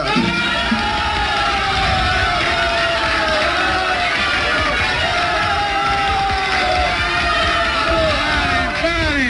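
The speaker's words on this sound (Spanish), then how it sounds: "Che, no aplaudan, a ver si canta otra" Audience cheering and applauding after a live tango song, a loud sustained roar of crowd noise with whoops and shouts over clapping, lasting throughout.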